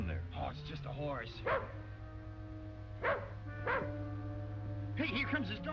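A dog gives a few short barks and yips in an outdoor Western scene, the sharp bursts coming at intervals over background music and a low hum.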